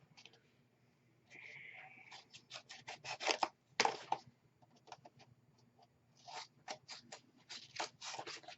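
Scissors snipping the corners off paper for a handmade mini album, a series of close, quiet crisp cuts in irregular bursts, with a short scraping rub near the start.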